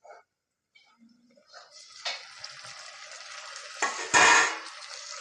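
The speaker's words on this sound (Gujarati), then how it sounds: "અંદર આપણે ટામેટા નાખી દઈએ" Tomatoes are tipped into onions already browning in a pan for a tomato-onion chutney, with a few scattered clicks, then a rising sizzle and a louder burst as they land and are stirred, nearby.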